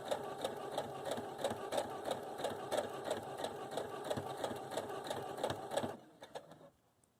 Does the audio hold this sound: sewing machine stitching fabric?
yes